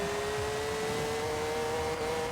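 A 1963 Volkswagen Beetle drag car in Forza Horizon 4 launches on a wheelie drag tune. Its engine holds a steady, loud, rising drone for a couple of seconds, close up, with no voices.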